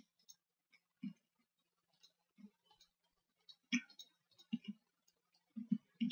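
Computer mouse clicks while modelling a room in 3ds Max, sparse irregular close clicks, single and in quick pairs, quiet with no talking.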